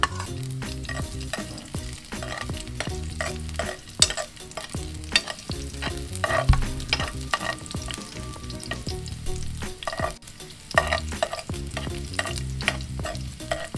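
Garlic fries in a pan with a loud, dense sizzle and a busy run of rapid spatula scrapes and taps throughout, close up and with no talking.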